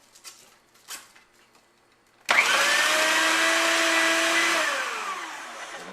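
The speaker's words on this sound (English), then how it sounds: "you don't want the food processor to get too full, and then it will bind" A food processor shreds young cabbage, with its core, for sauerkraut. The motor starts abruptly, then runs loud and steady with a falling whine as the load changes. It follows a few quiet handling knocks.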